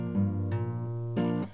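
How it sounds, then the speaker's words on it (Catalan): An acoustic guitar is strummed in a rhythm that mixes ringing chords with percussive, string-muting chuffing strokes, giving choppy, close, moderately loud hits with short pauses between them. "és amb una tècnica molt desenvolupada que jo dic chuffing, que és aixafar una corda"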